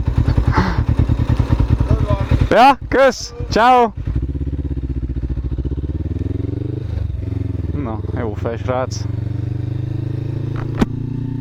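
A motorcycle engine runs steadily through the whole stretch, a continuous low drone underneath short friendly exchanges of talk from people standing close by.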